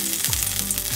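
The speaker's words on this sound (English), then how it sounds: "Fry lightly the meat" Pork frying lightly in a pan for Japanese ginger pork stir-fry, a loud, steady, close sizzle with soft stirring scrapes and no talking.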